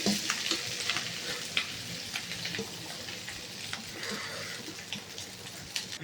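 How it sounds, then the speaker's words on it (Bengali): Cooked rice for egg pulao fries in a mix of ghee and oil, a soft steady sizzle with scraping stirs and small crackles, close but fairly quiet, with no talking. "আমি ঘি আর তেল একসঙ্গে মিশিয়ে ভাজলাম।"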